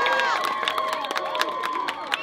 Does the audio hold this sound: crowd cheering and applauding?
yes